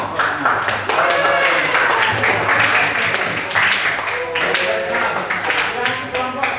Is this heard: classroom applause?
yes